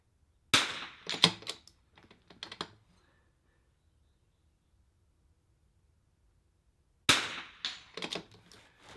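Rifle shots during a timed NRL22 shooting match stage: sharp, close cracks come in quick clusters at the start, then fall quiet for several seconds before another burst of rapid shots follows.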